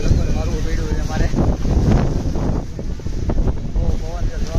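A loud, steady gale on Saputara hill station's Table Point pounds the microphone with deep rumbling gusts throughout, while a person talks underneath.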